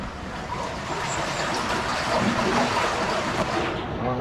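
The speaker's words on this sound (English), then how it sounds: "There's the water's going in there." Water flows into a drainage channel at a farm mill, a steady broadband rushing and gurgling close by, with no clear pauses.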